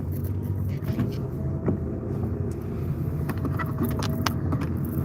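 A car drives along a bumpy country road, with a steady engine and road rumble heard from inside the cabin and faint rattles and knocks as it jolts over the uneven surface.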